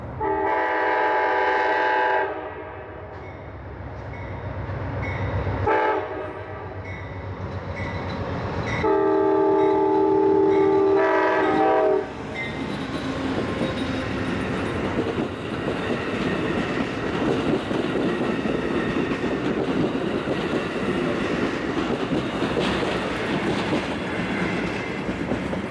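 Amtrak passenger train 370 approaches on a Michigan line and sounds its horn in several loud blasts, then the rolling rumble and clatter of the cars passing nearby fills the rest.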